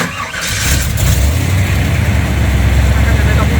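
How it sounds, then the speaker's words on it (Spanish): A Chevy pickup engine, not running on all cylinders, settles into a steady low idle after starting, a loud continuous rumble close by with a brief rise at the start. "El motor trabaja extremadamente suave, pero no están trabajando todos los cilindros."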